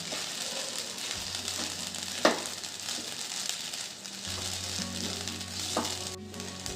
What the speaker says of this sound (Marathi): साबुदाणा व दाण्याचे कूट तुपात छान परतून झाले आहे.